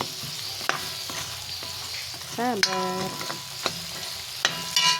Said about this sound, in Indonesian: kita langsung tumis aja bumbu